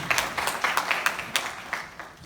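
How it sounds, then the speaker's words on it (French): Applause for a project leader at a presentation on a direct internship initiative, a short run of scattered, distinct hand claps from a small audience, fairly close and without talk. "je vous demande de l'applaudir d'abord,"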